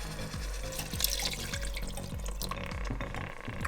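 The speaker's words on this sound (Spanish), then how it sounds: "vamos a agregar 300 mililitros de leche" Milk is poured into a pot of rice pudding with arequipe, a soft, steady liquid gurgle and splash with faint repeated low thumps, close and moderately quiet.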